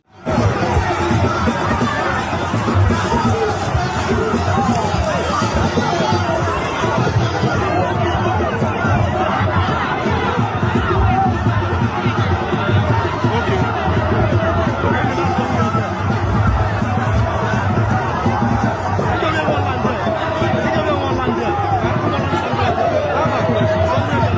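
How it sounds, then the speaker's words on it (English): A massive crowd gathered for Senator Natasha Akpoti-Uduaghan keeps up a loud, dense babble of overlapping voices throughout, with scattered laughs and brief cheers rising from the steady hubbub. "See the massive crowd"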